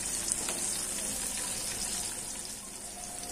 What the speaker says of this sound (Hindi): इन सभी चीजों को हमें 1 मिनट तक अच्छे से भून लेना है